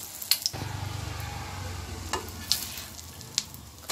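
Pieces of dipped batter fry in a pan for a quick tiffin, a steady close sizzle with a few sharp pops and spatters, no talking.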